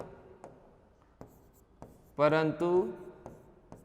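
Chalk or pen tapping and scratching on a board in a chemistry lecture, several faint ticks spaced through the clip, with a voice briefly speaking over it.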